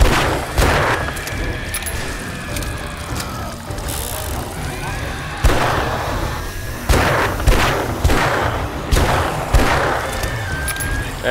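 Magnum pistol fire in the video game 7 Days To Die comes as repeated loud, sharp booming shots at uneven intervals, each trailing into a reverberant decay over a dense game soundscape.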